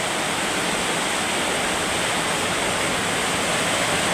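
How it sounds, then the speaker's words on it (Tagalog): Heavy rain pours down steadily during a downpour in Dasmariñas, Cavite, making a dense, loud, unbroken hiss that holds at the same level throughout, with no voices. "napakalakas ng buhos ng ulan ngayon guys dito sa Dasmariñas, Cavite."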